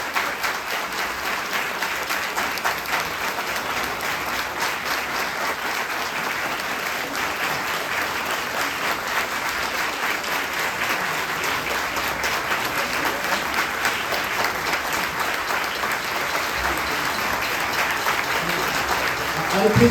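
An audience claps at a church inauguration in Maninagar, a dense, even applause that lasts about twenty seconds with no gaps and only faint voices underneath.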